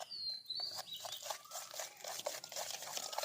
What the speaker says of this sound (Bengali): এরপর এই বাটার, তেল আর চিনিটাকে খুব ভালো করে আমি ফেটিয়ে নেব